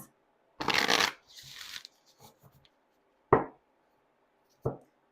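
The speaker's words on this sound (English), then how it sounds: "I have an oracle card deck here. Let's grab an oracle card for the sign of Aries." An oracle card deck is shuffled in one loud burst of riffling, followed by a few soft card taps and two sharp isolated snaps or knocks of the cards, with no talking.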